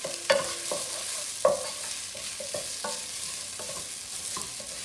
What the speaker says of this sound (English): I parch the rice like about for 2 minutes.